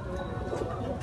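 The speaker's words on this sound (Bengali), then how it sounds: "জিডিয়া পায়রা আছে," A Jiriya pigeon, one of a pair of young birds, coos steadily and close by, a soft continuous burbling call that fills the short moment without any talk.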